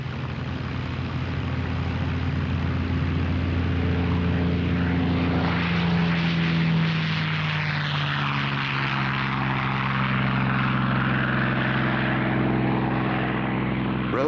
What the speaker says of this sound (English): This restored Spitfire carries the JEJ marking, immortalized by the great British ace, John